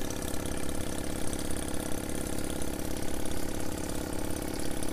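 A small 1920s Stuart inline twin steam engine, being run in, ticks over steadily on its own, a fast, even chugging rhythm at a constant, moderate level throughout.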